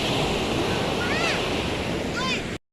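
Sea waves wash steadily onto a beach shore, a continuous broad rush of surf mixed with wind, with faint voices in the background and the sound cutting off abruptly at the end.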